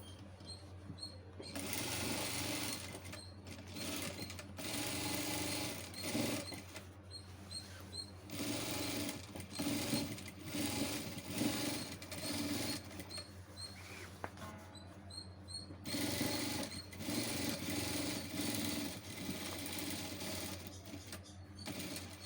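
Sewing machine stitching a fold on a school uniform collar and neck, running in steady rapid bursts with brief pauses, close and fairly loud throughout, with no talking.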